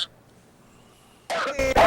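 A person gives two or three rough, loud coughs close to the microphone, breaking a near-silent pause.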